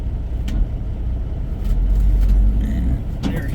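Heavy truck engine rumbling low and steady as the brakes release and it pulls away to start down Monteagle Pass, the rumble swelling midway with a brief clatter near the end.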